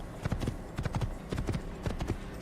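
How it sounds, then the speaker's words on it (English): A horse gallops in the Assassin's Creed video game, with rapid, uneven hoofbeats clip-clopping close and clear throughout, in quick clusters of heavy thuds over faint background ambience. "This horse has the world's worst turning radius when it's galloping."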